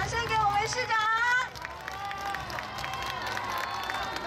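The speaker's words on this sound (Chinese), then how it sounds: "掌声给我们市长" An outdoor New Year's Day flag-raising ceremony in Kaohsiung erupts in loud crowd applause and cheering for the mayor, with clapping and crowd noise continuing, then easing to a steadier hubbub.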